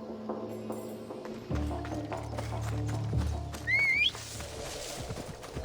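Hooves clip-clop rapidly as a horse gallops in Assassin's Creed Odyssey, with a neigh partway through and game ambience and music underneath.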